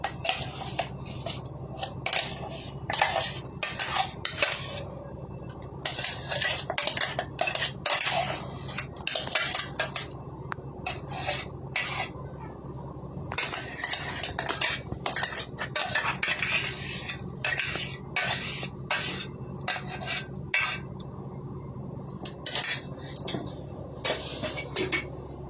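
A spoon clinks and scrapes against a pot as ground paste is stirred into boiling curry, in irregular bursts of metallic scraping over a low simmering bubble, close and fairly quiet.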